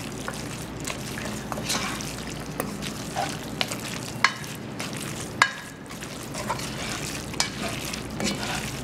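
Al dente pasta tossed in sizzling Alfredo sauce in a pan, a steady close sizzle with occasional sharp clicks and scrapes from stirring.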